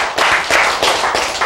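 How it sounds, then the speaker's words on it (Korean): Audience clapping during a lecture, four rhythmic bursts of hands clapping in unison, loud and close, evenly spaced across a second and a half. "박수 한번 치셔야지."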